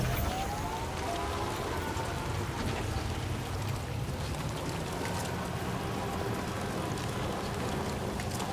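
Steady rain falls on surfaces in the video game Death Stranding 2: On the Beach, a dense, continuous hiss of drops, with a low hum underneath and no voices.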